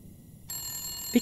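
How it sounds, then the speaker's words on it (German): Telephone bell in The Long Dark game ringing in a shelter, a sharp ring cutting in abruptly after a near-silent half second and holding steady, with a brief low knock near the end. "Wie kann er das Telefon schellen?"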